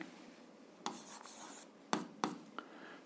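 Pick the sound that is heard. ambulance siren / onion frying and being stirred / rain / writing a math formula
writing a math formula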